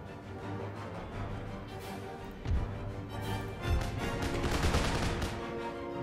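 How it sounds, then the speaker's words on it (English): Musket volleys from infantry in the video game Empire Total War, a dense crackle of distant gunfire rolling continuously with a couple of heavier booms, no speech over it. "you men open fire. Reload. Fire."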